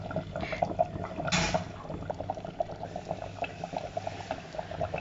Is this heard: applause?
no